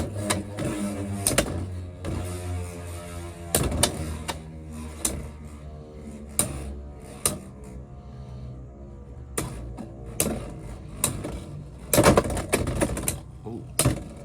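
Two Beyblade X tops, Night Shield and Hell Scythe, spin and clash in a stadium with a steady whirring hum. Sharp clicks and knocks repeat irregularly as they collide.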